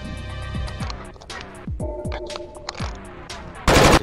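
Gunfire in the VR shooter Onward: scattered single shots and short bursts, some sharp and near, others duller, ending in a loud dense blast of rapid fire, with no talk.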